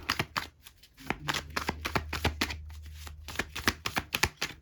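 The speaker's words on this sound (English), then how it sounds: "Wait, let me shuffle this because this came out." A deck of tarot cards is shuffled by hand up close, with quick bursts of crisp snapping and riffling that come in uneven clusters separated by brief pauses.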